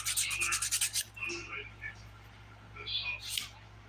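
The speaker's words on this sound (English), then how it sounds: "I am smoothing the bottom of my nail here." A nail file smoothing the underside of a dip powder nail in a quick series of close, rhythmic scratchy strokes, followed by a few softer, scattered rubs.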